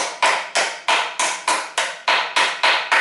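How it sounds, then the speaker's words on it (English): A hammer strikes a knife wedged between the oil sump and engine block of a 1990s Toyota Corolla, ten sharp metallic blows in a steady rhythm, close and clear with no talking. "And I am hitting this my knife between that oil sump and then this engine body."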